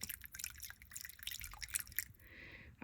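Water flushes through an HVAC condensate drain, a steady trickling, splashing flow heard close and fairly quiet, ending in a brief hiss of running water.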